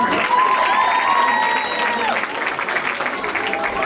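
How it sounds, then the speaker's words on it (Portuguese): An audience applauds at a live singing performance, a dense, steady wash of clapping with cheers and voices mixed in, close and loud throughout. "Uma salva de palmas."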